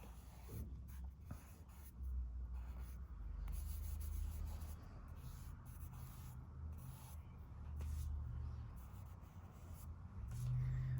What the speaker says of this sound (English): I'm just taking some of this off with my fingers so I have less charcoal to erase